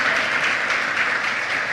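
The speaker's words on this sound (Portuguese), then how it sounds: "Você pode aplaudir Jesus Cristo pela vez deles, amém?" A church congregation claps steadily throughout a worship service, a dense continuous applause filling the room at even loudness with no pauses.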